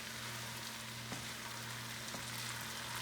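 Mushroom and pea risotto stirred in a pan, a steady low sizzle and soft bubbling with faint scraping, continuous and close with a couple of light clicks, under a constant low hum and no talk.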